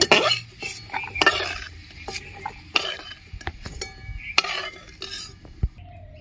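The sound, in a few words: cookware and utensils while lifting fried food out of pan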